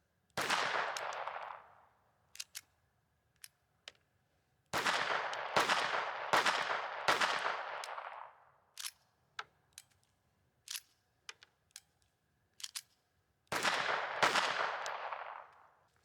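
A Ruger LCP-2 .22 pistol fires fresh ammunition in several loud, sharp reports with ringing decay: a single shot, then a fast cluster of four, then another single shot. Faint metallic handling clicks fall between the volleys, and no one speaks.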